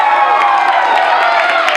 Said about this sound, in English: And clap now if you want to see a British period drama.